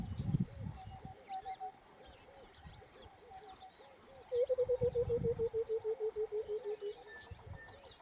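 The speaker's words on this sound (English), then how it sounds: "When he calls, it sounds something like water flowing out of a bottle." A white-browed cuckoo, known as the bottle bird, calls near safari cottages at Ol Pejeta: a short bubbling phrase, then a long, rapid run of hollow, liquid hoots that slowly descend like water glugging from a bottle, clear over faint background rumble.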